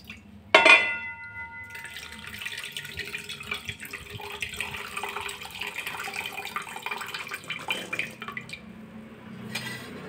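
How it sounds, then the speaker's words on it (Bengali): Freshly made chhena is strained through a cloth for homemade sweets as water splashes and trickles, starting with a sharp pour and continuing as a steady soft drizzle and dripping close by. "পুরো ছানাটা ছেঁকে নিতে হবে।"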